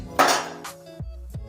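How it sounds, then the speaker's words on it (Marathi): A metal kadhai is set down on a gas stove, giving a sharp clanging knock followed by a couple of lighter metallic taps and ringing, close and clear with no talk. "गॅसवर कढई ठेवूया।"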